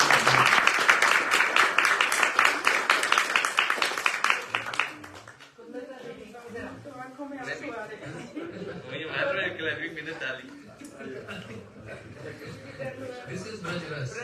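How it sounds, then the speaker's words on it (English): An audience at a Hindi harikatha gathering in Houston claps in welcome: dense, loud applause for about five seconds, then it breaks off into quieter voices and murmuring. "Please welcome with clapping."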